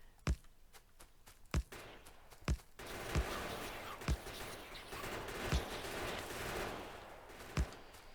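Ammo turrets in the game Factorio fire at an enemy base, heard as sharp, evenly spaced gunshot bangs about once a second over a rising rumble of battle.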